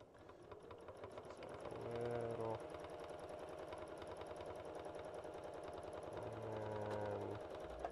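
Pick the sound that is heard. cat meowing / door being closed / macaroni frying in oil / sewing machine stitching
sewing machine stitching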